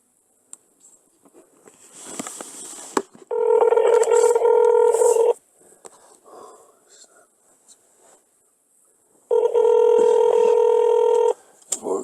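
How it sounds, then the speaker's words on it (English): Telephone tones sound as a call is placed: two loud, steady electronic tone bursts, each about two seconds long, separated by a quieter stretch with faint soft voice sounds and small noises. "let me just get her on the phone right now."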